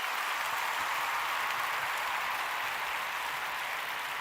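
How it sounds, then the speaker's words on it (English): A TV studio audience gives steady, even applause, a dense wash of clapping that holds constant from start to finish with no voices over it. "Let's give them a round of applause"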